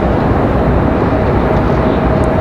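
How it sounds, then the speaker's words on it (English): A JetBlue airliner departing Raleigh Durham International for JFK: a loud, steady broadband jet roar that fills the whole moment without letup, with no other sounds standing out. "JetBlue off to JFK 2486"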